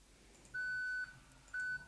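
A beeping sound effect asset played back in Blender: two clean, steady electronic beeps, the first about half a second long and the second shorter, faint over a quiet background hiss.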